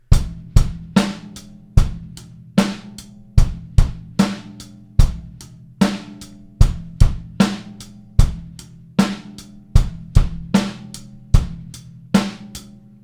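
Basic rock beat on a drum kit, a steady pattern of kick and snare hits under ringing cymbals, played at a moderate tempo with even, punchy strikes and no talking.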